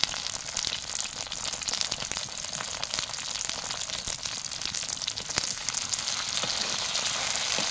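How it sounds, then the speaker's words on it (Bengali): Eggplant pieces, cut and salted, sizzle in hot oil in a clay pot, a steady dense frying crackle with scattered sharper pops, close and fairly soft throughout. "এই তেলের মধ্যে লাল লাল করে ভেজে নেব"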